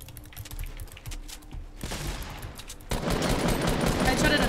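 Gunfire in a Fortnite Battle Royale duos-versus-squads match, heard as dense bursts of rapid shots that jump louder for the last second and a half, with some voice chat mixed in.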